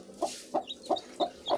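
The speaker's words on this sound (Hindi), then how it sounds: "कितने अच्छे अच्छे चिक्स निकाले हैं" Newborn chicks calling in a hand: five short, evenly spaced chirps, close and fairly quiet, with no talk.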